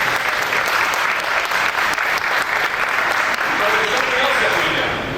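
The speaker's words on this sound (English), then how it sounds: "So we give a quick round of applause for the folks that really make it happen." Applause from an audience at a ribbon cutting ceremony for new express bus routes, a steady dense wash of many hands clapping throughout, fairly loud and close, with no clear speech over it.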